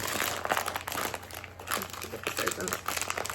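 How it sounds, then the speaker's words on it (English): Plastic or paper crinkles and rustles close up, a busy continuous crackling that rises and falls, with a voice faintly underneath. "Excuse the rustling."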